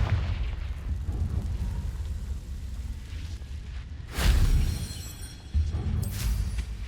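Confringo fire spell exploding in the Hogwarts Legacy video game: a steady low rumble broken by two loud bursts, the second following about a second after the first, each with a crackling, hissing tail.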